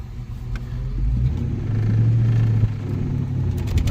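A 2000 Ford Mustang GT in first gear gives a deep, steady low engine rumble that swells as it pulls away, heard from inside the car with no talking.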